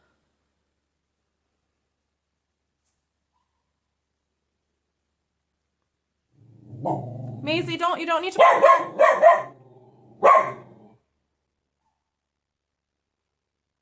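A dog barks outside a few times in quick bursts, mixed in with a person's voice speaking nearby, after a long stretch of silence.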